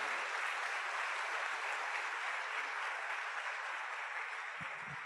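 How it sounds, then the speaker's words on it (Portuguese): A church congregation claps together in steady, full applause, a broad even wash of hands that holds throughout and fades slightly near the end. "Você pode dar uma salva de palmas pelo nome dEle?"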